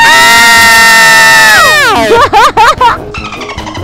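A woman and others scream loudly as a warm-up before motorcycle vlogging, one long sustained shriek that wavers and breaks into shorter cries, followed by a noisy jumble of voices.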